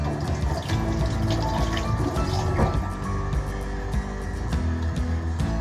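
Running tap water pours and splashes steadily over fresh basil leaves being washed in a kitchen sink, loud and close, with continuous droplet patter and no talk.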